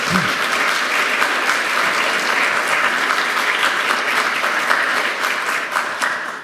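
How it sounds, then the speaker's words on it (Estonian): Loud, sustained audience applause after a forum presentation, dense even clapping from a large crowd that holds steady for several seconds and eases slightly at the end. "teeme suure aplausi"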